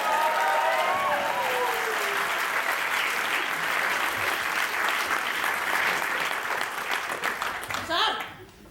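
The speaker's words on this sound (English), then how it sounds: "Can I get a round of applause?" A theatre audience at a student pantomime applauds loudly and continuously, a dense roar of clapping and crowd noise that holds steady before dropping away at the end.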